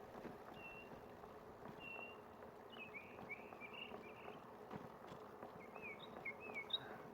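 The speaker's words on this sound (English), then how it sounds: "The bike's so quiet, you can actually hear the birds up here." Faint bird chirps and short calls repeat sporadically over a quiet, steady background hiss, with an insect-like buzz nearby.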